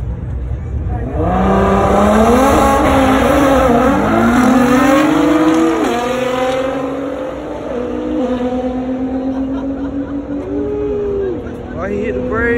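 Race cars at a Race Wars drag event, including a McLaren, roar loudly as engines rev and rise through gears, with pitch swoops and dips under braking, while nearby spectators talk over the noise.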